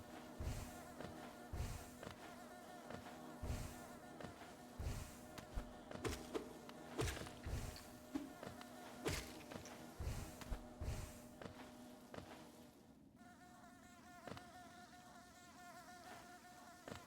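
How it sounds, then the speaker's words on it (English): Bees buzzing in the video game Hollow Knight, a soft continuous insect drone layered with repeated short rhythmic hits and game sounds, fairly quiet throughout. "Hello, bees."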